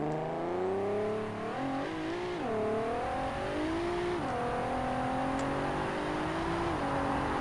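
A Nissan GT-R in the BeamNG Drive racing game revs hard and alone, its engine pitch climbing and dipping in smooth sweeps before settling into a sustained high whine.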